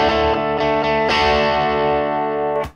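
Hard strummed chords on an electric guitar through a Marshall amp set at the edge of breakup, gritty and loud, several quick strums followed by a ringing sustain that cuts off abruptly.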